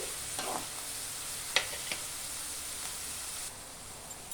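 Sliced onions and drumstick leaves fry in a pan with a soft, continuous sizzle, broken by a few sharp scrapes and knocks of a stirring utensil; fairly quiet, with no talking.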